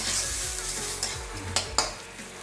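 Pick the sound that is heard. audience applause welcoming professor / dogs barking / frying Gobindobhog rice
frying Gobindobhog rice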